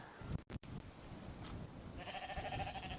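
Faint bleats from a flock of sheep with wethers on a farm, heard alongside a steady outdoor background; a brief sharp knock comes early, and a higher sustained bleat-like tone carries through the final second.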